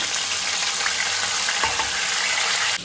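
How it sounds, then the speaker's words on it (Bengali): Cumin seeds, bay leaves and chopped tomato sizzling in hot oil, a loud, dense crackling hiss held close and constant, with faint stirring clicks before it cuts off near the end. "ফার্স্টেই তেলে দিয়ে দেবো একটু জিরে ফোড়ন, দেন দিয়ে দেবো দুটো তেজপাতা, তারপর দিয়ে দেবো কুচি করে রাখা টমেটোটা"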